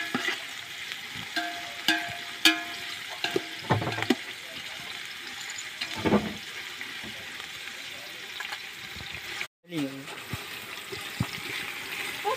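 Biryani ingredients frying in a pan in a village kitchen, a steady sizzle with scraping stirs and occasional clanks, continuing throughout at moderate loudness.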